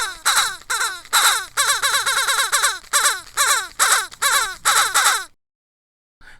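Crows cawing loudly in a comedy skit, harsh rapid caws in bursts of several, fairly close and alone, stopping abruptly before a brief silence.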